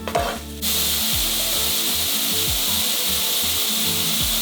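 Minced ginger fries in hot oil for baked samosa filling, a loud, dense, continuous sizzle that bursts in suddenly after a brief rattle and then holds steady and close.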